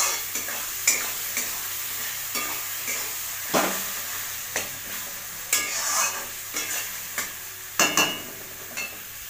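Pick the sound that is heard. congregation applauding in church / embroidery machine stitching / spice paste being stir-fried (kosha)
spice paste being stir-fried (kosha)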